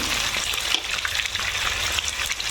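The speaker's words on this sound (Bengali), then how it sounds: "তেলটা আমার গরম হয়ে গেছে আমি এবার চিংড়ি মাছগুলো দিয়ে দিলাম" Prawns frying in hot oil, a loud continuous crackling sizzle right up close that bursts sharply at the start and keeps spattering for a couple of seconds, with no voices.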